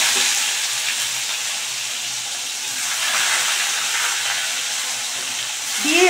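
Onions fry in hot oil in a pan for a spiced chicken kosha, giving a steady, close sizzle and hiss with faint stirring scrapes throughout.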